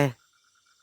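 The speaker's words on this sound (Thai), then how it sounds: "ทุกคนได้ยินเสียงกบเขียดร้องไหมครับ" Frogs croaking at night in a forest, heard as faint, evenly spaced pulsing calls over a steady high insect hum, with a brief voice speaking at the very start.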